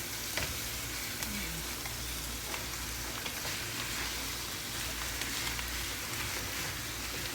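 Ground chicken sizzling in a pan for kabsa rice, a steady dense crackle throughout with occasional stirring scrapes, close and continuous with no talk.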